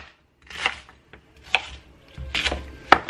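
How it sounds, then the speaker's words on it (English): Leafy greens for a green juice roughly chopped with a knife on a board: a handful of sharp, uneven chops spaced irregularly, close and fairly loud, with quiet gaps between them. "I just do a really rough chop."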